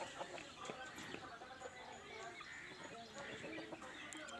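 Young short-nosed long-tailed hens cluck and scratch about in a pen, faint scattered clucks and soft calls over a low background murmur.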